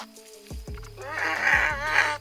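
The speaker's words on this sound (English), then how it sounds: "But this donkey holds its ground and makes loud enough noises to turn them off." A donkey brays loudly to fend off hyenas: a long, harsh, honking call rises close and clear after a few low thumps, lasting about a second and then repeating.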